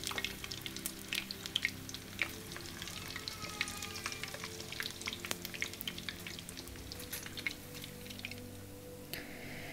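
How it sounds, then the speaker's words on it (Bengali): Vegetable rolls and singaras deep-fry in oil in a home kitchen, a continuous crackling sizzle dotted with sharp pops and spits, fairly quiet and with no one talking. "এই তো ভাজা পোড়ার কাজ চলছে।"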